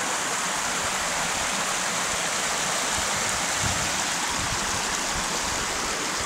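River water rushes over rocks at Rio Mucugezinho in Chapada Diamantina, a loud, unbroken broadband roar close by, steady throughout with no pauses.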